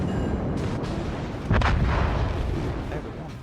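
Naval guns firing in the World of Warships video game, a heavy booming blast over a dense, continuous rumble of game noise, loud and full.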